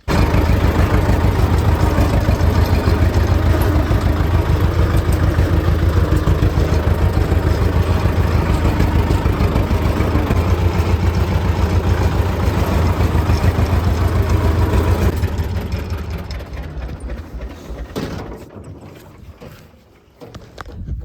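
A loud, steady diesel tractor engine with a hay baler drones close by for most of the stretch, then drops away and fades near the end.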